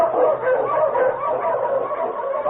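An Eskimo lead sled dog barks and yips repeatedly in a muffled, narrow-band old radio drama recording, the barking continuous and fairly loud.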